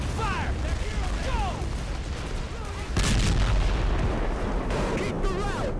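Direct gunfire in the war game Men of War: Assault Squad, a dense, continuous barrage of loud shots and booms with a sharp surge midway and whistling streaks overhead.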